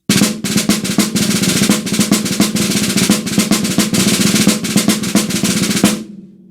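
A snare drum plays a bar of the rudimental solo Ginger Snap with double drag strokes, a fast and dense run of crisp taps and ruffs, loud and close, ending abruptly into silence with no talk.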